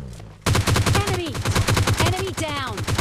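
Rapid automatic gunfire in the mobile battle royale video game PUBG Mobile Lite, a loud, continuous burst of shots that starts abruptly and runs throughout, with a voice talking over it.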